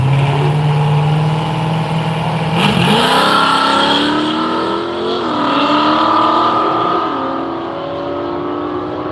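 A Ford Cortina drag car at a drag-racing event revs hard while struggling to spool its turbo on the converter. The loud, close engine note rises, dips and climbs again in uneven surges, with no talk.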